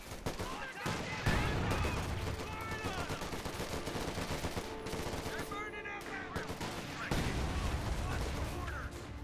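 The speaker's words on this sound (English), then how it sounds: "Fallschirmjägers with 2 guys firing away." Small-arms fire from a Fallschirmjäger squad rattles in repeated bursts during a Company of Heroes battle, mixed with distant booms and game effects, and a voice talks over it.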